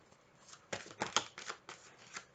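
Tarot cards being shuffled close up, a few quick papery riffles and snaps in soft bursts over quiet room tone.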